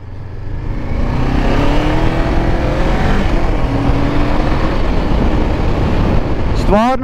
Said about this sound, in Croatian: Motor stvarno mirno radi i stvarno se lagano vozi.